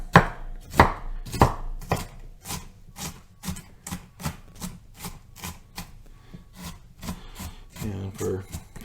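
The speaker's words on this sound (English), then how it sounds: "And for chopping, I just tend to hold the tip of the knife down and kind of use it as a lever and just chop away" A knife chops an onion on a cutting board in a steady rhythm of crisp, close knocks, about two per second, with a brief rustle at the end.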